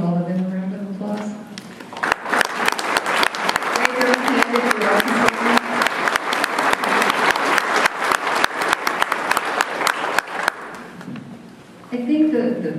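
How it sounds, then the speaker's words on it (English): A room full of people claps in a sustained round of applause for an event committee at an awards evening, broad and steady for about eight seconds before fading, with talk before and after. "would you stand up and let's give all of them a round of applause?"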